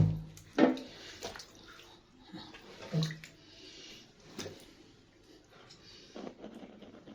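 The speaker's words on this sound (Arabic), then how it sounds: "نشطفه بقى شطفة حلوة." Water splashes and runs over a raw duck carcass being rinsed, coming in irregular loud bursts and splashes with softer trickling between, close by.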